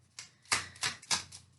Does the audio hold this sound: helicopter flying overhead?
no